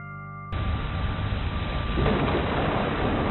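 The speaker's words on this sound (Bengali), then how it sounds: "এ কি, এ তো বৃষ্টি শুরু হলো।" Rain bursts on abruptly by a canal-side landing and settles into a loud, steady downpour hiss that swells slightly later, with a low rumble underneath and no voices.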